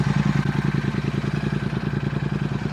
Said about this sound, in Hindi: इसमें एग्जॉस्ट लगे हुए हैं तो आवाज़ इंजन की एग्जॉस्ट की ज़्यादा आती है